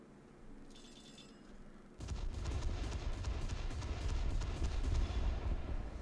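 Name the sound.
anti-aircraft guns firing from a ship in a video game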